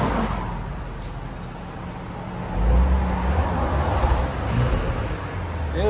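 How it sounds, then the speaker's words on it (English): A Porsche Cayenne S with a 2.9-liter twin-turbo V6 and stock exhaust idles quietly, a low steady engine hum that swells slightly partway through, with no talking. "V6 twin turbo. Let me let you guys hear what it sounds like before."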